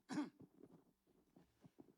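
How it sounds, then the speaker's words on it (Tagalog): A single loud cough followed by a short, low throat clearing, close and quiet otherwise. "may konting ubo kaya kailangan natin"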